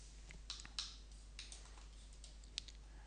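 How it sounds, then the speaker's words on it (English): Typing on a computer keyboard during a 3D modeling session on a computer, heard as a few sparse, soft key clicks over a quiet, low background hum. "So I'll type in six."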